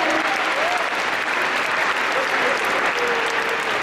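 A concert audience at the Jippii concert gives a sustained round of loud, even applause for the choir and orchestra. Faint musical tones drift under the clapping.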